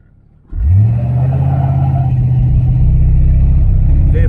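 A 1977 Malibu Classic engine on big wide rims and tires roars up from quiet into a loud, sustained rumble, sagging briefly before pulling harder, heard close and steady.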